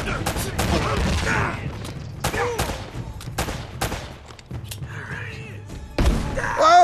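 Repeated heavy thumping launches and blasts from a grenade launcher in Uncharted during a jet-ski chase, loud sharp hits spaced irregularly across the stretch, with speech amid the chaotic game noise.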